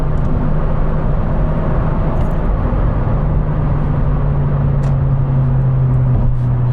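A warmed-up car cruises on a highway with a steady, loud engine drone and road rumble, a sustained low hum running unbroken throughout with no talking.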